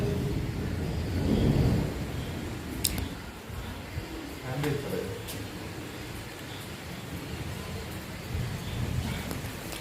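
Steady rain and wind roar outdoors, with low rolls of thunder swelling near the start and again toward the end, plus a few sharp nearby clicks.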